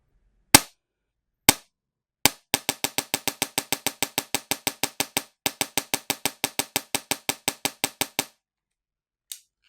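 A G&G ARP9 DSG airsoft gun dry firing with no BBs, a few separate single shots followed by fast, evenly spaced bursts of sharp mechanical clacks, close and loud, then one last isolated shot.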